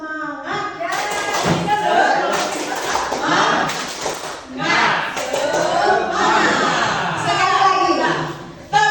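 Teachers and students do a spirited "tepuk semangat" group clap, rhythmic bursts of many hands slapping together loud and close in repeated waves, with chatter and laughter around them.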